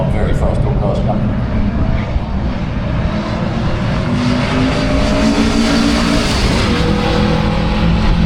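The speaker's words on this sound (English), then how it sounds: "We've got a couple of very fast door cars coming." Fast door cars at a Santa Pod drag racing qualifying session, engines roaring steadily and loudly throughout with a dense broadband rumble, while a commentator talks over the noise.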